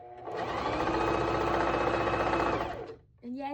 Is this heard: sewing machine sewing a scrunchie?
yes